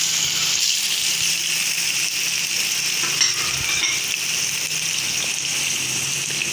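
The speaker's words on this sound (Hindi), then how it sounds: "दो दो करके कबाब तल लेंगे" Chapli kebabs of shaped mince sizzle steadily in hot oil in a frying pan, a dense continuous crackle with a few brief stirring clicks partway through.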